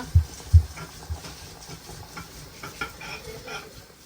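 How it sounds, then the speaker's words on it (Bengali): Imported dried chillies frying in a pan: a soft, steady sizzle with a couple of thumping knocks near the start and light scraping stirs throughout, close and moderate, with no talking. "আমাদের দেশ থেকে আনা মরিচ ফ্রাই করে নিচ্ছি"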